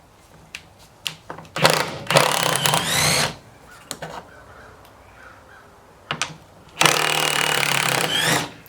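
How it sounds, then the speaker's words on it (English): A small impact wrench fitted with a deep well socket rattles in loud bursts while removing bolts from the heater box of a 1978 Cutlass, with quieter clicks and pauses between the runs. "It's just a little bit easier to use this little impact."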